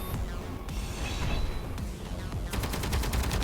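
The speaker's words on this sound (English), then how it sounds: "those turret guns were definitely worth building" Turret guns in Space Engineers fire in steady bursts, a fast rattling stream of shots that turns into sharp, evenly spaced rapid fire near the end, close and loud with no talking.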